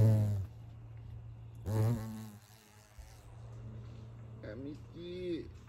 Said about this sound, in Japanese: 蜂です。